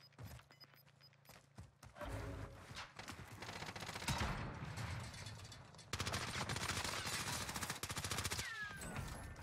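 Rapid bursts of gunfire from the Warzone video game, automatic weapons rattling in dense volleys with sharp individual shots, loud and continuous through most of the stretch.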